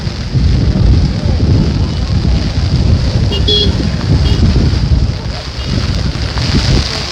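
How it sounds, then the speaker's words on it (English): Rain falls steadily during an outdoor protest in Guyana, a loud, continuous broadband hiss and patter that fills the whole stretch with no break. "The rain doesn't bother me."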